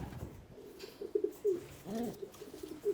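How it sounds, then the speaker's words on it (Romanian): Breeding pigeon cooing softly in a loft, a few low rolling coos close by with faint background noise and no voices. "Frumos porumbel."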